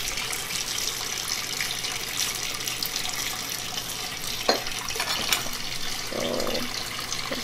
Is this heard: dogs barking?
no